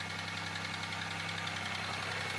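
A Chevy Malibu engine running steadily just after being started on brake cleaner, with a continuous close mechanical drone and a faint knocking texture throughout.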